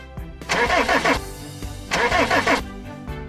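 A toy Unimog truck cranks over twice, each a loud, close, raspy engine-start burst lasting under a second with a gap between, then a short fainter sputter at the end, with no talk.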